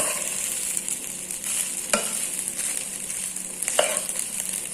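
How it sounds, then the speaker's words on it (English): Garlic rice with burnt garlic and fresh coriander is stir fried in a pan. A steady sizzling hiss runs throughout, broken by two sharp scraping stirs, one near the middle and one toward the end. "We will stir fry it for 1 to 2 minutes."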